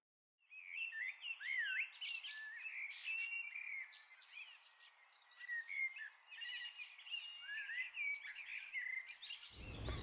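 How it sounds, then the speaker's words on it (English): Many birds chirp and sing together outdoors, heard from a balcony, a busy overlapping chorus of calls near and far, with a sudden low rumble right at the end. "come outside on the balcony, and I can hear so many birds."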